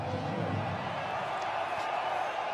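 A large arena crowd at a Lakers basketball game reacts as Luka Dončić waves from the court: a steady, dense murmur of many voices with faint scattered cheers, never swelling into a roar.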